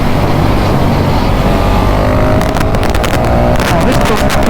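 A KTM 690 SMC R or Ducati Mono 698 single-cylinder motorcycle revs as the throttle is cracked open, a loud engine roar with wind buffeting and rising crackle toward the end. It is heard up close with no clear speech.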